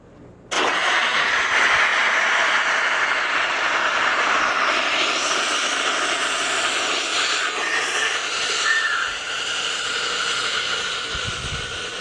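Compressed CO2 gas blasting out of a tank to form dry ice, a loud, steady roaring hiss that starts abruptly and holds broadband for about eleven seconds, wavering slightly near the end.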